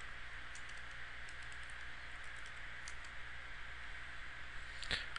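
Typing on a computer keyboard while entering commands for a Cisco Catalyst switch, a quiet run of soft, irregular key clicks over a faint background hum, ending with a sharper keystroke.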